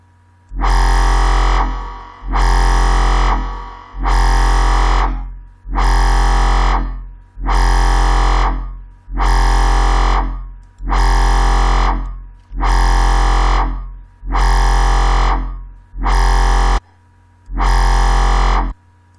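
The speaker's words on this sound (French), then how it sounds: "Ensuite là-dessus on rajoute une petite reverb, pas très puissante hein" Dubstep wobble bass synth with a light reverb, playing ten loud, evenly spaced sustained notes, each with a deep sub-bass and a thick harmonic body that fades slightly before cutting off, alone with no voices.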